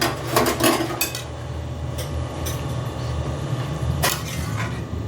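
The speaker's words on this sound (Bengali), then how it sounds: "এবার একটু নেড়ে চেড়ে দিচ্ছি।" Metal spoon scraping and clinking in a pot of jackfruit and prawn curry being stirred, a cluster of quick rattling strokes and then a few more scattered clinks over a steady low kitchen hum.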